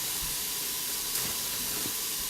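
Chunks of meat for a red wine casserole are added to a very hot stovetop pan, releasing a steady, loud hissing sizzle with rising steam. The sizzle runs throughout, and no one talks.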